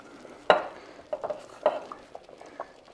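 A heaping spoonful of dumpling dough for chicken and dumplings drops into a pot with a sharp clack at the start, then softer spoon scrapes and light clinks follow close by.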